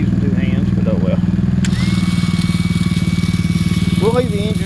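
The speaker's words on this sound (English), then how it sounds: "We'll leave the engine running because we want to make sure our battery stays good and charged." A mini jeep's small engine idles steadily with a fast, even putter throughout, close and moderately loud, while a person talks over it near the start and end.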